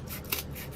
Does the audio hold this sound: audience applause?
no